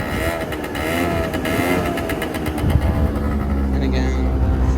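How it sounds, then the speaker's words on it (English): A small two-stroke Yamaha Zuma scooter engine buzzes and revs up and down nearby, with a rough, rattling drone and a voice talking over it. "Really nice 2-stroke scooter."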